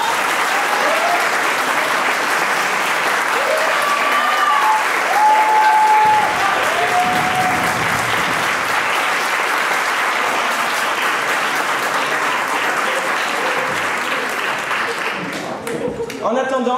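Theatre audience applauding the performers after a magic show, loud sustained clapping from a large crowd that goes on for many seconds, with a few whistles and cheers and fading slightly at the end.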